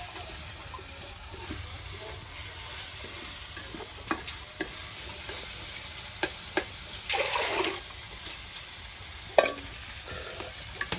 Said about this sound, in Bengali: পেঁয়াজ রসুন আলু সব একসাথে কিন্তু ভাজা ভাজা করে নেওয়া হলো